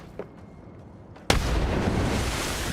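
Frag grenade detonation in a battle royale video game: a small click, then a sudden loud blast that settles into a sustained, dense roar of debris and rumble lasting to the end.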